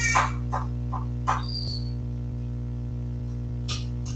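Small bird chirping indoors, a few brief sharp chirps and tweets scattered over a steady low electrical hum, moderately faint with no talking.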